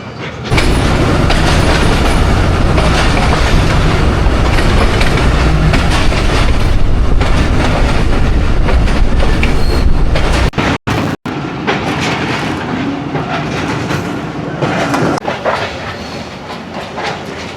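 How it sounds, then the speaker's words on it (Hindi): The Sialkot Express passenger train runs on the rails between Narowal and Wazirabad, heard from onboard as a loud, steady rolling roar with rattling, clattering wheels and brief dropouts, no talk. "ट्रेन हमारी सियालकोट एक्सप्रेस सियालकोट शहर में एंट्री दे चुकी है"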